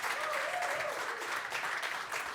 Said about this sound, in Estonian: Teeme väikse sellise vaheaplausi siia Aplausi restoranis.